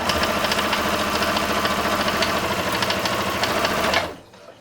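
Singer Quantum Stylist 9960 sewing machine with a denim needle stitching through 16 layers of cotton, a loud rapid mechanical chatter running steadily for about four seconds before stopping abruptly.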